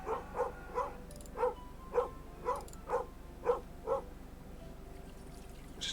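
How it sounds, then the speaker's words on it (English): A dog named Bugzilla barks about nine times in a steady, evenly spaced string, moderately distant and fairly quiet indoors over a low background hum. "Stop barking"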